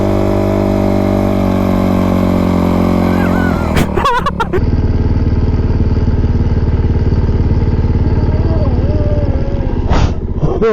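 Dirt bike engine revving loudly and steadily on beach sand, a close continuous drone with a brief burst of clatter partway through and a rising rev near the end.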